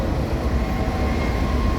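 Inside a high-speed express train travelling through Sweden, a steady, close rumble of wheels and carriage noise runs continuously without pause.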